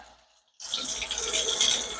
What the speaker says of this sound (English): A little more water in there.